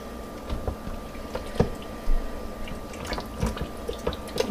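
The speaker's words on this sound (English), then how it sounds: "So I'm just going to give it a quick stir." Lasagna soup stirred in a pot, soft liquid sloshing and scattered clinks of the utensil against the pot over a steady low hum, close, no talking.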